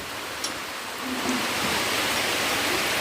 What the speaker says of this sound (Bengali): আবার ঝমঝম করে বৃষ্টি হচ্ছে, এসে গেছে।